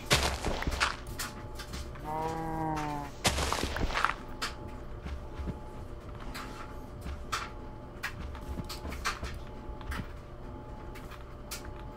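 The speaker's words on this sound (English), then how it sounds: "Baby cow." A baby cow in the Minecraft 1.14 video game gives a short moo that rises and falls around the two-to-three-second mark, set against a busy bed of game noise and a string of sharp clicks and taps.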